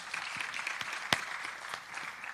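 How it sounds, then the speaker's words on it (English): A crowd applauding steadily at a studio unveiling ceremony in Pretoria, a dense patter of many hands clapping at an even level with a few sharper claps standing out. "A round of applause for him, please"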